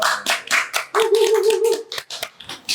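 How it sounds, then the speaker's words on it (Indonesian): A small group clapping in a podcast studio, with distinct, uneven hand claps close by and a brief sustained tone partway through. "Tepuk tangan dulu."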